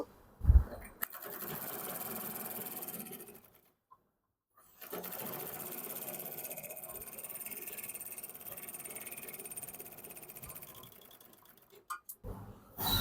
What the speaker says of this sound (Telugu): ఈ క్లాత్ ఓవర్లకు చేస్తున్నాను